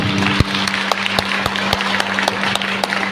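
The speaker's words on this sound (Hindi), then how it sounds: "एक बार जोर से ताली बजाएं प्रभु को धन्यवाद।" A congregation at a three-day prayer gathering in Jashpur, Chhattisgarh, claps loudly and steadily in thanks, a dense, continuous round of applause with a few sharper individual claps standing out.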